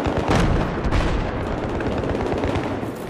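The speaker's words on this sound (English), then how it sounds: "Oh, someone threw a grenade at me." A grenade explosion in an online first-person shooter game, a loud dense blast and rumbling gunfire that fills the whole stretch with continuous battle noise.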